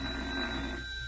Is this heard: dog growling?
no